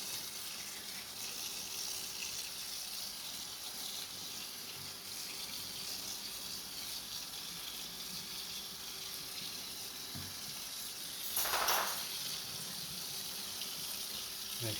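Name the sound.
rinsing a tie-dyed shirt under hot running water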